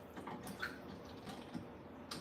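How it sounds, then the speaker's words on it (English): Water runs and splashes faintly while a cooking pot is washed in a kitchen sink, with soft drips and sloshing throughout. "I'm gonna wash this and use the same cooking pot."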